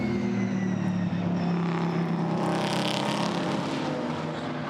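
GT4 race cars, including a BMW and an Aston Martin, cross the line at Brands Hatch behind the safety car, their engines a steady, continuous roar at moderate distance with no talk.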